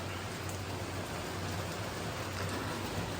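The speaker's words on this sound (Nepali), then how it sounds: "यस्तो पानी पर्यो छ्या" Rain pouring down in a village, a continuous loud, even hiss of falling water on surfaces with a low steady hum beneath, no voices.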